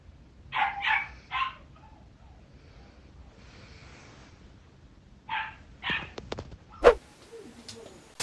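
A small dog barks and yips in short bursts, a quick cluster of three, a pause, then a few more sharp yaps, fairly close with faint background noise.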